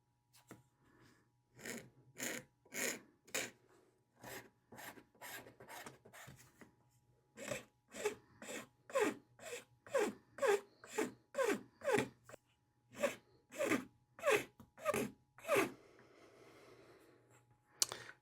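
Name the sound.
filing metal with a file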